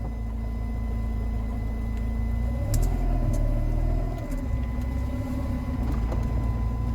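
A Rover 45 Impression S3 with a CVT gearbox creeps backward in reverse, heard with the window lowered: a steady low engine drone with a rising, wavering whine midway, continuous and moderately close.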